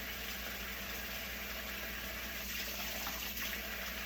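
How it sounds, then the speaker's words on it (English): A spatula washed under running water, a steady broadband gush from the tap that goes on without a break and stays moderately loud. "I'm washing the spatula"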